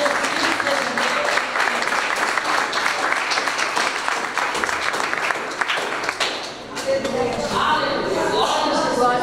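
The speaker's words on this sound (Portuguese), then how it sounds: "Dá salve de palmas para Jesus." A church congregation claps during a worship service, loud sustained applause with voices mixed in, giving way near the end to talking and singing.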